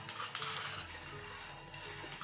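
Crushed coriander seeds, ginger and cardamom go into a pot of boiling water for ginger coriander coffee, with a few sharp metallic clinks of utensil against pot near the start, then a soft bubbling background.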